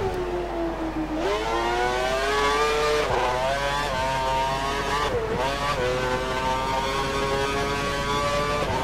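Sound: race car engine revving in a Formula 1 video game

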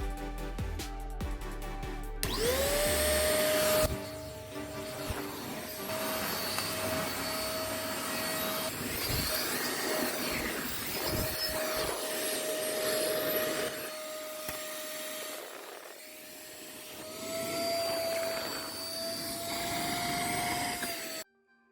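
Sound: Xiaomi Deerma DX115C vacuum cleaner running

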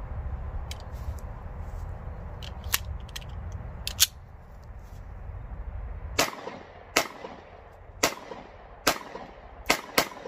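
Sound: gunshots from a Bersa BP9CC pistol

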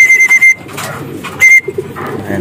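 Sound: racing pigeons arriving home

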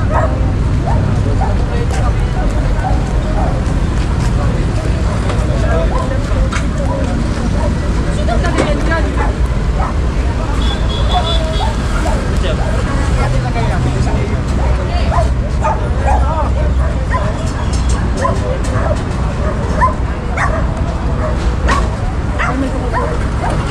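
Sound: dogs barking

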